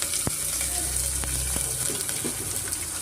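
Green chillies and a medium onion frying in a pan, a soft continuous sizzle with a few sharp utensil taps and stirring scrapes, close and brief, no talk.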